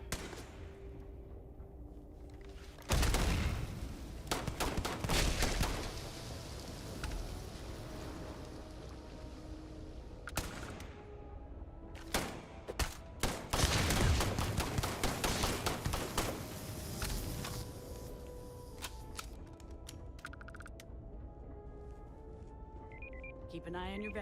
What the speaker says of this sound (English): Now, are they going to stop shooting me?